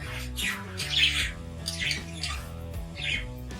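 Australian parrots and budgies in an indoor breeding setup squawk and chirp in repeated bursts over a low background drone, fairly close.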